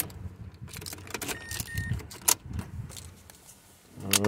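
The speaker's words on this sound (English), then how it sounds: "Turn the ignition on." A key ring jangles as the ignition key of a Mazda 6 is turned on, with a brief click and a rising vehicle rumble at the end. The sound is close and clear, with no talking.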